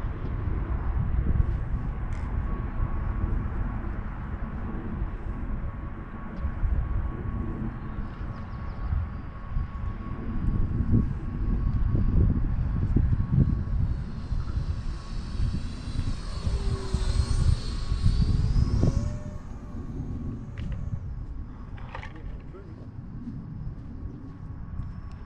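A radio-controlled model airplane's engine drones steadily for the whole stretch as the plane flies past, climbing into a louder, higher whine near the middle before easing back to a steady hum.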